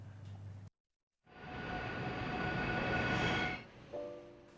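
A subway train rumbles through a station, a broad steady roar with faint tonal whine rising after a brief silence, swelling for a few seconds and then tapering off, heard alone without talk.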